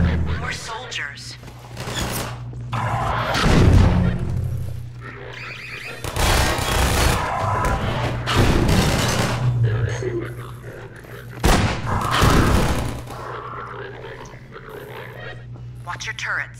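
Automated turrets and soldiers fire guns in a Half-Life 2 battle: repeated loud bursts of gunfire and heavy thuds break out in waves over a steady mechanical hum, while a voice talks between the volleys.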